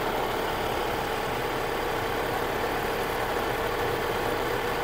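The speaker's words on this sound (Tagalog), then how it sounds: "Yan po yung ingay na maririnig nyo na yung bearing po ng alternator" Steady grinding whir from a worn alternator bearing on an idling car engine holds an even, unbroken drone throughout, close up with no speech over it.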